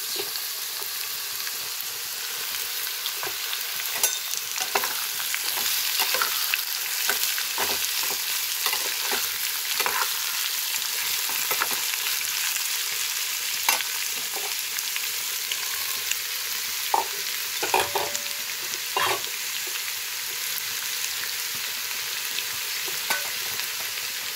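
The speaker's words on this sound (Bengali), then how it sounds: "একটু নাড়াচাড়া করে নেব কাঁচা গন্ধটা চলে যাবার জন্য" Ash gourd being stirred as it fries in a pan of hot oil with mung dal tempering, a steady sizzle broken by repeated scraping strokes of the spatula, close and alone.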